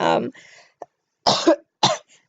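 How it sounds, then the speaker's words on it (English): A person coughs in short bursts up close, a few sharp coughs separated by brief pauses, with a clipped vocal sound between them. "I've been coughing a lot."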